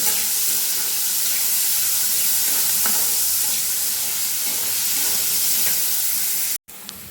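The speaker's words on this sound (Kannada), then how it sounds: "ಇದೊಂದು 2-3 ಮಿನಿಟ್ಸ್ ಫ್ರೈ ಆಗಲಿ, ಆಯಿಲಲ್ಲೇ ಫ್ರೈ ಆಗಲಿ" Carrots and beans fry in oil in a pan, a loud, even hiss with occasional stirring scrapes, ending in a sudden brief cut.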